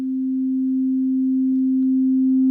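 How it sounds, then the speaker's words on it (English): Synthesizer sine wave pushed into distortion by overdriving the filter drive, a steady, loud sustained tone with faint clicks partway through, alone without any voice. "That is no longer a clean sine wave, even though we are not distorting anywhere else in the signal."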